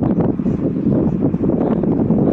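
Wind blows across a home garden planted with sweet potato and aloe vera, a low rumbling gusty rush buffeting the microphone in uneven pulses, close and steady for a couple of seconds.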